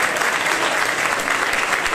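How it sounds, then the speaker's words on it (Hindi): A church congregation claps for Jesus during worship, a short, steady, dense round of applause lasting about two seconds with no speech over it. "अपने हाथ उठा के यीशु मसीह की तालियां दी भेंट अर्पण करो"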